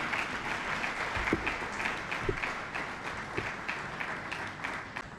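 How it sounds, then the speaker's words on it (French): Audience applause at a media conference on sexual harassment, a continuous moderate crowd of clapping with a few louder near claps standing out, fading slightly toward the end. "On mérite une fois de plus des applaudissements."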